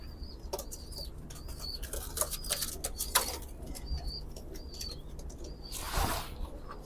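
Teddy pigeons coo softly in a loft, with repeated cooing calls and bursts of wing flapping, moderately close against a low background hum.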